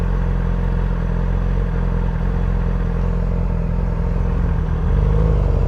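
Mid-pitched engine drone from a high-mileage, mostly stock 2007 Yamaha R6 sport bike accelerating, a steady close buzz with the pitch stepping up near the end, with no talking.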